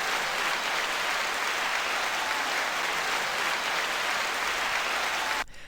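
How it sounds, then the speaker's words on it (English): An audience breaks into dense, sustained applause, loud and even throughout, cutting off abruptly just before the end. "It's amazing being applauded for drinking water."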